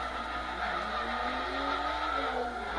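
In a driving video game played with a steering wheel, a car's tires skid under the handbrake, a steady squeal with a gliding pitch over a constant engine drone.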